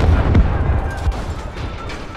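A loud explosion in Call of Duty: Modern Warfare opens with a heavy booming blast, followed by a rumbling, crackling tail of battlefield noise that stays strong throughout.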